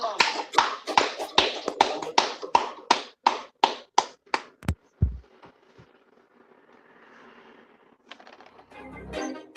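Hands clapping in a steady, evenly spaced run of about fifteen sharp, close claps that stop abruptly, leaving faint background murmur and a few scattered taps afterward.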